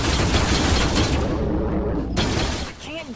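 Rapid bursts of spaceship gunfire in the space combat game Rebel Galaxy, a dense crackling barrage that cuts off abruptly, followed by brief electronic warbles as it fades.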